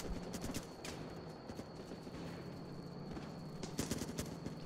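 Rapid bursts of gunfire crackle in the Running with Rifles war game, a fusillade of sharp shots at moderate distance, clustered at the start and again near the end, with no speech.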